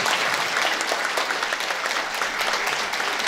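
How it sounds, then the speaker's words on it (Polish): Steady, dense applause from a live audience at an evening stage show, welcoming a guest onto the stage; loud and continuous throughout with no pauses or voices. "Zapraszamy wielkimi oklaskami. Przywitajcie go gorąco."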